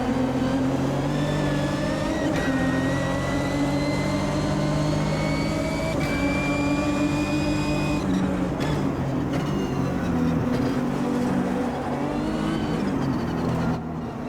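Race car in the Automobilista 2 sim, running a Sprint Race class at Santa Cruz del Sol: a steady engine drone with rising and falling tones through gear changes, continuous and fairly loud with no voices.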